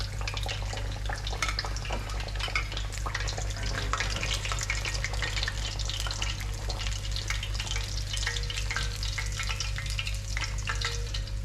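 Fried whiting fish resting out of hot oil after frying, a steady close crackle and fizz of draining oil running evenly throughout with a low hum beneath, no voices.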